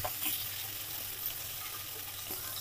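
Fish frying in a pan for a taro curry, a steady broadband hiss of oil sizzling throughout at moderate level, close and continuous, with no voices.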